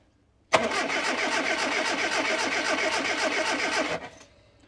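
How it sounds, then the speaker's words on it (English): A Morris Minor engine is cranked on the starter after timing chain work, a steady rhythmic churning of the starter motor running for about three and a half seconds before cutting off. "What I'm going to do now is turn it over on the starter just to make sure it sounds like everything's more like it was before"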